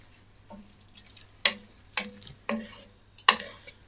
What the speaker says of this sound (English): stirring the leek and potato soup